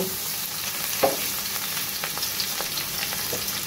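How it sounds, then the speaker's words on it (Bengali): Mung dal sizzles and crackles in a hot pan, a continuous frying hiss with occasional stirring scrapes and clicks, close and steady. "মুগ ডালটা এখানে আমি 2 মিনিট মতো ভাজবো।"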